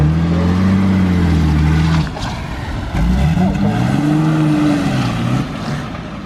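A car revs hard and pulls away, its engine note rising and falling loudly up close, with a short dip in the middle before it surges again and squeals.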